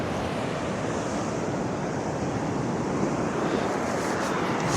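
Rough sea surf breaks at Hendon Beach. A continuous, fairly loud wash of waves mixes with wind buffeting the microphone, and no one speaks.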